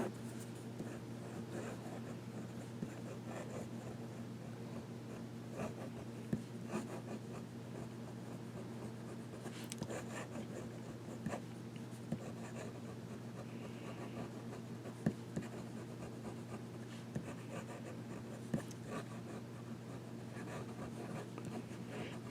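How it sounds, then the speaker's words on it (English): A fountain pen nib scribbles across paper, a steady soft scratching that runs throughout over a low constant background hum, with no talking. "So, I'm just going to do a little scribbling here."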